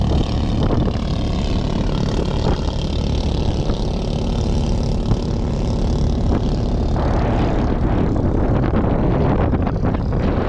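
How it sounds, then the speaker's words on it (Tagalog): A boat engine, sounding like a Honda, runs loud and steady, a continuous rumbling drone with no pauses. "Parang Honda din yung makina niya."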